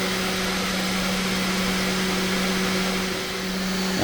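A CNC 4040 Pro spindle motor runs steadily with a constant whine and airy hiss, close and unchanging throughout.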